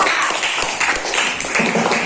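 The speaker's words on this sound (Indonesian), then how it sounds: "Beri tepuk tangan untuk kelompok 3" A primary school class applauds a student group, a brief burst of many small hands clapping fairly close and loud, dense and continuous throughout.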